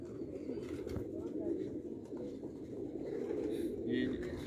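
Sialkoti breeder pigeons cooing in a loft in Sialkot, soft low repeated coos at close range, with people talking nearby.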